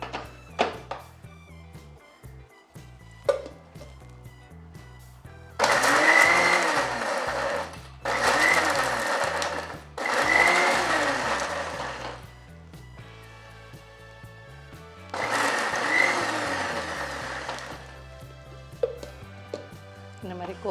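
A mixer grinder chops potato pieces for Bangalore-style instant dosa batter in four loud whirring bursts, separated by short quiet gaps with faint clinks and handling noises.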